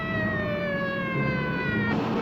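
A police car siren wails steadily and loud, a sustained rising electronic tone that shifts pitch near the end, with no talking over it.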